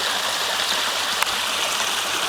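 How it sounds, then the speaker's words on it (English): Steady broadband rush of a garden waterfall in Cartmel, Cumbria, water falling continuously at close range with no voices, one small click partway through. "The waterfall itself"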